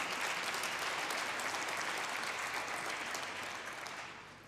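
An audience at an energy conference claps for several seconds in a dense, even wash of applause that fades slightly toward the end.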